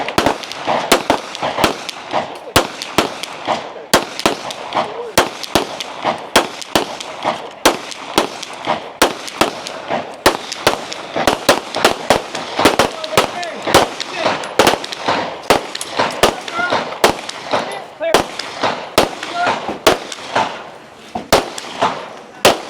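Competitors at a shooting match firing line let off a dense run of sharp gunshots, some near and loud, others more distant, in rapid irregular bursts.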